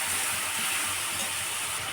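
Fish being added to hot oil in a pan for a Bengali fish curry, giving a loud, steady sizzling hiss that fills the whole moment.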